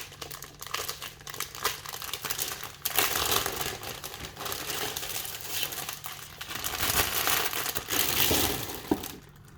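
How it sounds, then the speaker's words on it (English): A playmat is pulled out of its plastic wrapping after a Digimon Card Game 25th Anniversary set box is set aside, giving steady close crinkling and crumpling of plastic throughout, with louder bursts toward the end. "Taking the mat out of the plastic so it doesn't have a shine on it so much."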